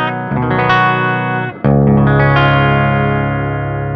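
A Music Man Axis electric guitar plays through the clean channel of a Laney VH100R amp. One strummed chord rings, a brief gap follows, then a second chord is struck loudly and left to sustain.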